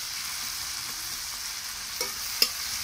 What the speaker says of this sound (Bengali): আদা রসুনটা ভাজা হতে থাকে